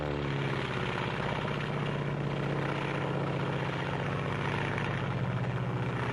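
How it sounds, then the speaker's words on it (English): A Japanese Zero fighter plane in flight, its propeller engine making a steady, loud drone that holds for the whole stretch with no voices over it. "This is the Japanese Zero."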